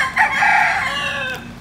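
A rooster crows loudly and close by in one drawn-out call, with chickens clucking faintly around it, at a resort in the Dominican Republic.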